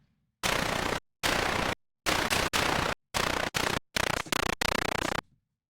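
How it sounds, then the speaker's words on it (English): Synthesized white noise from a modular patch, chopped by a gate into a run of loud, hard-edged bursts of different lengths separated by clean silences, rattling like bursts of gunfire. "white noise floor"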